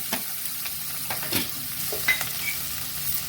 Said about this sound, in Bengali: একটু জিরে ফোড়ন দেবো, তার মধ্যে থেতো করা রসুন আর আদা গ্রেট করা।